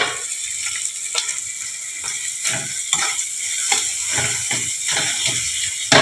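A hilsa fish head frying in a pan with cumin powder and spices, a steady bright sizzle broken by repeated sharp scrapes and taps of a spatula breaking it apart, close up.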